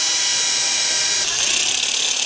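A power drill with a step drill bit grinds steadily into metal, a harsh continuous whirring that brightens partway through.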